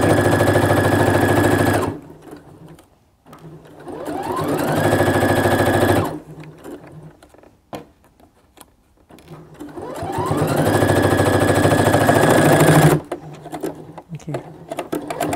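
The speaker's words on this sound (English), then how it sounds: "a sewing machine that is stressed because of the texture of our" A sewing machine strains as it stitches through thick apron fabric, running loud in long whirring bursts with pitch rising as it speeds up, separated by short pauses.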